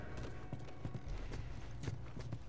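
Horse hooves clip-clop steadily in The Last of Us, on a Wyoming ranch, a regular rhythm of close, moderately loud hoofbeats over a low rumbling background with no talking.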